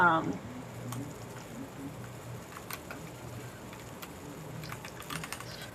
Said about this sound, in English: so I'm typing up my final thoughts